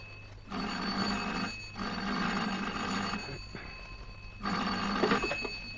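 A telephone bell rings in three long bursts separated by short pauses, fairly loud over a steady low hum.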